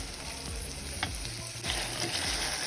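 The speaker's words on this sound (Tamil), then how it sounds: "தக்காளியும் வெங்காயமும் நல்லா வதங்கணும்." Steady sizzling of tomatoes, onions and bitter gourd frying in oil, with occasional stirring clinks and scrapes, continuous and close, no voices.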